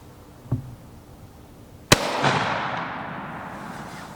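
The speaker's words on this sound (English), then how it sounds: "Let me see if I can determine if I'm shooting high or low." A Snider-Enfield rifle fires outdoors: a small pop, then one sharp, loud shot whose boom rolls and echoes away over a couple of seconds, with no talking.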